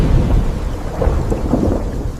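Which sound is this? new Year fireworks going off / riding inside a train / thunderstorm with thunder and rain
thunderstorm with thunder and rain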